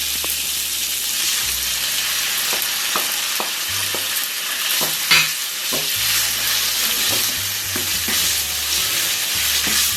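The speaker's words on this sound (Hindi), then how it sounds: "अब हम इसमें चिकन डाल देंगे" Chicken frying in a pan with browned ginger and garlic, a steady loud sizzle running throughout with repeated scraping stir strokes and occasional low clunks, no talking.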